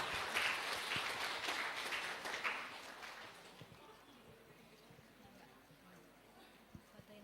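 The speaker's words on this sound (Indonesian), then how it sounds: "tepuk tangan dulu dong" Audience applause at a university new-student orientation in Palembang, a brief burst of scattered clapping that fades after a few seconds into quiet room noise with faint voices.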